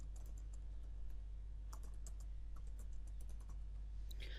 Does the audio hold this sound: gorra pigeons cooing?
no